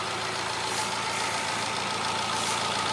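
Steady engine idle from a Chevrolet Enjoy undergoing engine carbon cleaning, a continuous even mechanical hum with a slight knocking texture, close and constant throughout.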